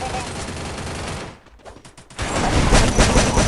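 Gunfire in the Free Fire battle royale game, a dense burst of rapid shots that drops out briefly and then resumes louder and heavier, with a voice speaking in the background.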